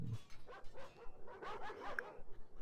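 Dogs bark in the Total War strategy game, in an Amazons campaign: faint, repeated yips and barks in a quick irregular series, quiet in the mix, with no talk.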